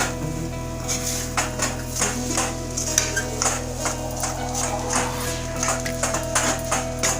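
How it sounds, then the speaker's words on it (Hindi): A spoon stirring amchur powder and salt into a mixture, soft repeated taps and scrapes against a pot over a steady background hum, faint and without speech. "इसको अच्छे से मिक्स कर देंगे"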